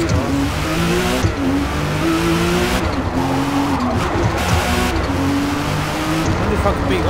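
Lamborghini race car engine in Forza Motorsport revs loudly and steadily with rising and falling pitch sweeps as it drives, tire noise mixed in, with someone talking over it.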